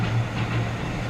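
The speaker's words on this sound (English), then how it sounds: "Train went by." Train passing by outside open windows, a steady low rumble and hum with faint clatter, continuous and moderately loud.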